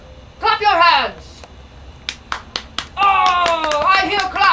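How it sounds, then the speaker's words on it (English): Audience clapping for a dancer at a children's fairy performance, bursts of claps with a few sharp separate slaps, mixed with high, singing-like voices before and during. "Oh, I hear clapping."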